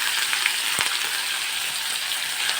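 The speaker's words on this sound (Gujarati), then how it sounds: "થોડીક આપણે હિંગ નાખશું અને આપણે આદુ મરચાંની પેસ્ટ નાખશું." Asafoetida and ginger-chili paste sizzle in hot oil with steady close hissing and crackle, a few sharp spits and pops standing out, with no voices over it.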